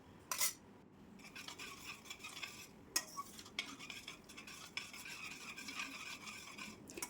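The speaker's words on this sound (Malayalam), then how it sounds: "അതൊന്ന് നന്നായിട്ടൊന്ന് ഇളക്കി കൊടുക്കാം" Semolina being stirred in a pan for halwa, the spoon scraping steadily and quietly against the pan in repeated strokes, with a faint sizzle and occasional sharper clinks, close up and without talk.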